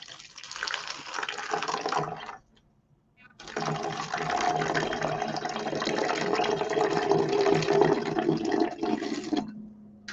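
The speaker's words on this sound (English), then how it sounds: "So to each jar or bottle, I want you to put about 2 inches of water in the bottom." Water splashes and pours into jars or bottles during a home science activity, two sustained pours separated by a brief pause, close and fairly loud.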